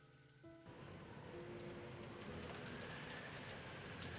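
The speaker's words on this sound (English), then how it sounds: "the rain was pouring down spectacularly" Heavy rain and rumbling thunder from the visual novel Umineko, a steady loud downpour wash with a low roll underneath, starting after a brief quieter moment with faint tones.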